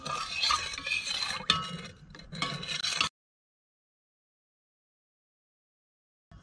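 Glaze for smoked trout being stirred in a pot on a stove, with steady scraping and clinking for about three seconds up close, then silence.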